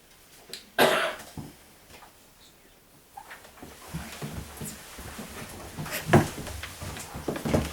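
A person coughs sharply once, then again more softly, in a quiet room during a poetry reading, followed by low rustling and faint audience murmurs.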